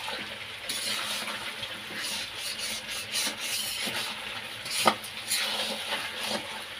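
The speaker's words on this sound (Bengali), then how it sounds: "আর একটু কষাই, একটু ভাজা ভাজা হোক।" Meat stir-fries in oil in a pan, giving a soft, fairly quiet sizzle with rubbing, scraping stirring strokes and a single sharper knock near the end, with no talk.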